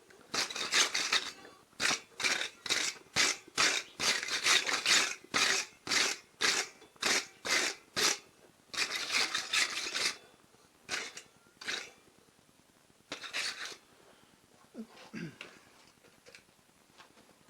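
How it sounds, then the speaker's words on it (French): A brush scrubs a metal part for a sliding gate bolt in short, rhythmic, bristly strokes, about a dozen quick passes close by, then sparser strokes trailing off toward the end. "je vais y passer un bon coup de brosse"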